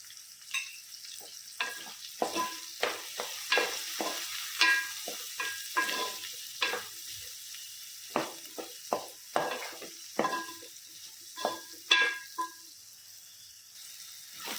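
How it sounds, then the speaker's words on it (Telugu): Onions frying with turmeric in a pan for an aloo masala curry: close, repeated scraping stirs rise and fall over a steady sizzle, with no talking. "ఉల్లిపాయలు వేగిపోతున్నాయి కదండి"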